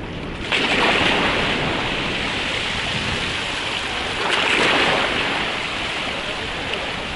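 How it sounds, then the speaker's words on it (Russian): Strong sea waves at a beach in Sharm el-Sheikh, Egypt, roll in as a steady, close wash of surf, with two louder swells surging and breaking, mixed with wind buffeting the microphone. "Здесь такая вот достаточно сильная волна"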